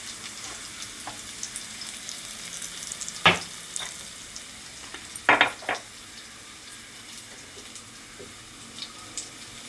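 Half a spoon of turmeric dropped into a hot, sizzling pan of oil while cooking dal, with steady frying crackle and a few sharp clinks of the spoon against the pan.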